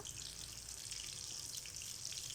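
Soya chunks (meal maker) dropped into hot oil in a home kitchen, giving a steady, dense bubbling sizzle that holds evenly for a couple of seconds with no talking.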